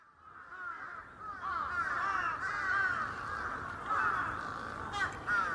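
Several crows caw repeatedly, overlapping harsh calls in a steady chorus at moderate distance over a soft outdoor background, without a clear break.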